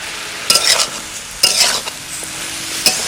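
Tomato and broccoli go into a hot pan for a mixed vegetable dish, bringing a soft ongoing sizzle with three bursts of louder scraping and stirring from a utensil, no voices.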